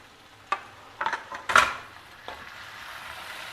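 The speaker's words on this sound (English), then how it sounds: "Again mix everything well together and allow it to cook till everything is perfectly done." A spoon stirs chopped capsicum, tomato and potato sabji in a pan, giving a few close scraping strokes with a light sizzle, then a quieter steady cooking hiss.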